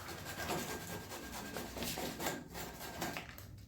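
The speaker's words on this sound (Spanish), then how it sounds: "Entonces ahora seguimos lijando." Sandpaper rubs back and forth on a pipe during installation of a faucet mixer, a steady rhythmic scratching of repeated strokes, close and moderately quiet with no talking.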